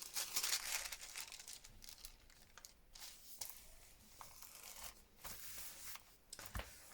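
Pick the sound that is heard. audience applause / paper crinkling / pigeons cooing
paper crinkling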